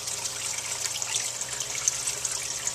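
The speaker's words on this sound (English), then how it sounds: "400 gallon per hour fish tank pump, just like we have in our other system, our deep water system. And it's pumping fine." A 400-gallon-per-hour fish tank pump in a Dutch bucket aquaponics system keeps water circulating, giving a soft continuous trickle and gurgle with a low hum beneath, fairly quiet and steady, with no talking.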